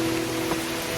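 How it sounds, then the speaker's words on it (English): Steady rain falling outdoors at Bear Brook, New Hampshire, a continuous even hiss of drops hitting surfaces with no talking. "Here comes the rain."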